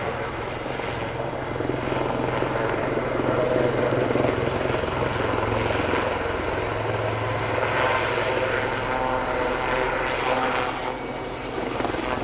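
Two Lynx helicopters roar overhead, climbing, with turbine whine and thudding rotor noise that swells and fades slightly, loud and continuous.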